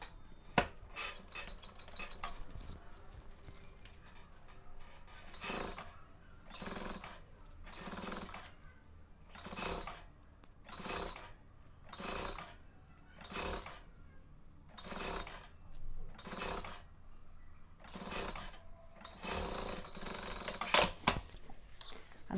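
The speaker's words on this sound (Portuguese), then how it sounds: "Também vou passar uma costurinha próxima à cremalheira do zíper" A sewing machine stitches near the zipper of a tote bag made of synthetic leather with a fabric lining. Short mechanical runs repeat at a steady pace, close by, with no talking.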